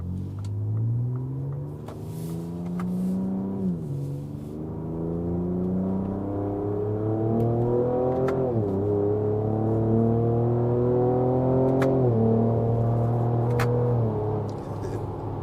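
A Ford Ranger Raptor pulls hard under acceleration, its engine note climbing steadily and then dropping at each smooth gearbox upshift, about four shifts in a rising, stepped pattern, loud and close throughout.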